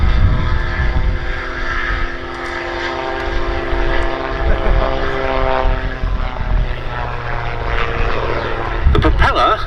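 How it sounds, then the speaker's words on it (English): A Calidus autogyro at the Duxford summer air show, its rear propeller driven by a 115 horsepower Rotax 914 engine, gives a loud, continuous buzzing drone rich in steady overtones, with faint background voices. "The propeller on the back is being driven by the 115 horsepower Rotax 914 engine"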